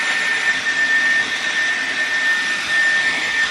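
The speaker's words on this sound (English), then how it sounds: "But first of all, I'm just going to dry my hair." A handheld hair dryer blows continuously as hair is dried, a loud steady rushing whoosh with a thin high whine running through it, close up and with no speech.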